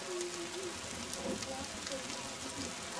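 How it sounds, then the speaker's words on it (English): Steady, dense hiss of heavy rain pouring down, with faint voices and a few tonal sounds rising briefly through the downpour. "it's raining pretty hard"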